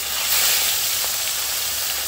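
Fish pieces fry in hot oil in a kadai, giving a continuous close sizzle that swells briefly near the start and then holds steady, with no voices.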